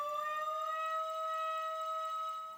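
A fire brigade siren sounds alone as a steady, loud wailing tone with bright harmonics, holding a constant pitch throughout without any talking.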